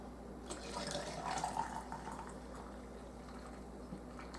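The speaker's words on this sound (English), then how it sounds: "I'm going to start filling this with this wonderful broth. And I'm just going to fill this jar completely full." Bean soup broth poured into a canning jar to fill it completely, a soft, continuous liquid trickle, faint and close.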